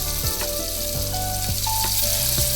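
Fish frying in coconut oil inside a pressure cooker for a fish biryani, giving a steady, loud sizzle throughout with a few soft clinks and stirring touches over it.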